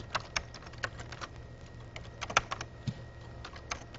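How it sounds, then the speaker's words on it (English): Someone types a name on a computer keyboard, a quiet run of uneven key clicks in short bursts, close and clear against a faint hum. "type in a name."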